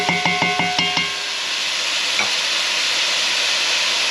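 Vegetables sizzling in a pan for Cuban-style oxtail, a few stirring scrapes at first, then a steady loud frying hiss on its own.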